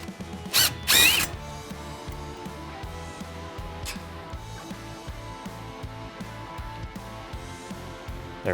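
A 17mm socket on a ratchet works loose a sway bar end link nut on a 2016-2020 Toyota Tacoma, giving a steady run of rapid, even mechanical clicks after a couple of sharp louder bursts at the start.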